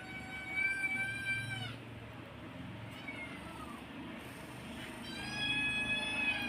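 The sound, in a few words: hungry cats meowing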